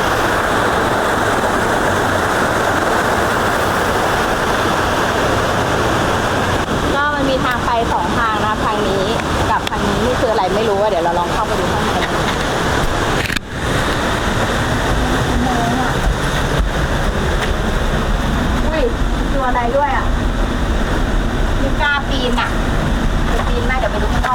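Lan Sang waterfall in Tak, Thailand, pours strongly, a constant loud rushing roar of water. People speak intermittently over it throughout.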